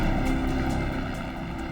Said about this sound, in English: It took 15 minutes for the Park Police helicopter to arrive at the bridge.